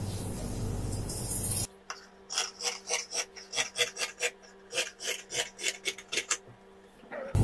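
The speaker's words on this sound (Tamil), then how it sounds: "இப்ப லைனை வந்து நம்ம இப்ப கட் பண்ணிக்கலாம்." Fabric for an apron is cut along a marked line, a rhythmic series of about a dozen close, crisp snipping strokes following a brief rustle, with no voices.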